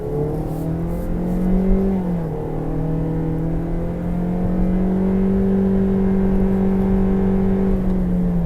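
A 2022 Toyota Corolla Cross LE accelerates hard toward 60 mph, its engine note climbing, dipping at a shift, then droning steadily from inside the cabin with no talking.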